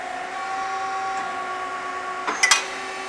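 A Hyundai HIT-15 CNC turning lathe runs with its spindle at 1700 RPM, giving a constant whining machine hum with a short burst of clattering mechanical noise near the end.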